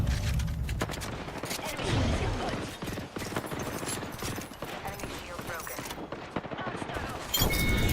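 Dense, rapid video-game gunfire from Apex Legends rattles almost without pause in near-continuous bursts, loud and close, with a voice speaking briefly underneath.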